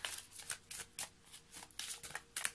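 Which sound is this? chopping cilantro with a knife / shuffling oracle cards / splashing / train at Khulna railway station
shuffling oracle cards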